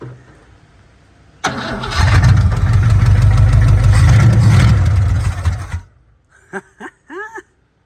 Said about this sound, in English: this sucker actually runs and it kind of wants to idle